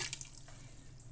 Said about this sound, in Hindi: मैं एक गिलास एक जग पानी का ले रही हूँ ताकि मेरी दाल अच्छी तरह गल जाए